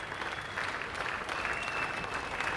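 Cricket crowd at the 1986 Adelaide Test between India and Australia applauding Sunil Gavaskar's 9,000th Test run, steady broad clapping from a large distant stadium audience, continuous throughout.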